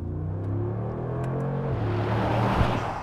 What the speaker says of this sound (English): Flooring the throttle in this thing,